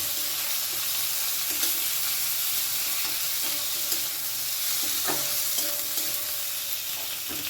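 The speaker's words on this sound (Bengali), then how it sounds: "এখন আমি এর মধ্যে দিয়ে দেব কেটে রাখা টমেটো আর দেব ব্রেড করা আদা ভালো করে আরেকটু নাড়াচাড়া করব" Potatoes, beans, chopped tomato and grated ginger stirred in a pan, a steady soft sizzle with faint scraping strokes running throughout at moderate, close level, no voices.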